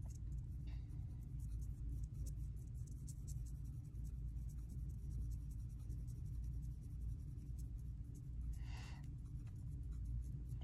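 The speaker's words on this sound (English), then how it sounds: "I am barely touching the paper with my colored pencil" Black colored pencil shading very lightly on paper, a faint soft scratchy rasp of strokes repeating steadily under a low background hum, close and quiet.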